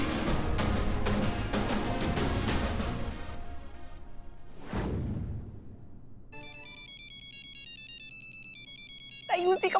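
A phone ringtone plays a repeating electronic melody, loud and close, after a stretch of voices and music.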